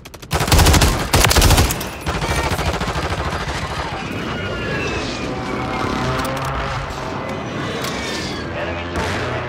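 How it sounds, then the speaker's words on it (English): Heavy video-game airstrike in a multiplayer shooter: two loud booming impacts open, followed by sustained rattling gunfire and explosive rumble throughout, with players talking over the barrage. "Precision airstrike inbound."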